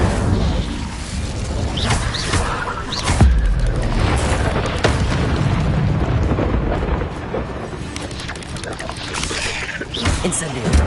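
A fire spell blast in Hogwarts Legacy bursts through loud, dense game audio, with deep booms and crackling roars layered over a constant rumble of battle effects.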